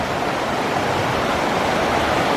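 Skookumchuck River floodwater rushes along Pearl Street, a public road in Centralia, Washington, flowing around a brick house. It makes a loud, steady, close roar of turbulent water that holds at the same level throughout, with no voices.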